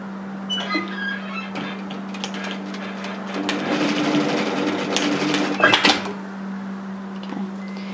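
A sewing machine stitches a hem on a one-shoulder top, a steady mechanical whir with a constant low hum and some clicks and handling noises, loudest toward the middle, while a person's voice is faintly present.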